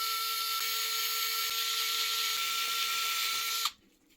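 A power screwdriver whines steadily and loudly at close range while backing out the screws holding a TRX4M gearbox together, then stops abruptly near the end, leaving quiet.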